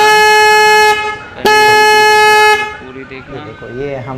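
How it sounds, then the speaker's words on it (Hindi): Old car horn being tested off the vehicle after a repair, sounding two loud, close, sustained blasts of a buzzy tone separated by a brief gap, followed by someone speaking. "मेरे पास एक पुराना हॉर्न है, मेरे कार का हॉर्न है ये"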